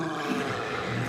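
A troll roaring in the video game Hogwarts Legacy, a deep, rough, sustained bellow that fills the short moment with no voices over it.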